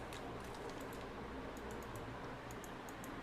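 Keys on a Cooler Master Octane keyboard clicking in quick, scattered taps, faint and light over a steady background hiss, with no voices.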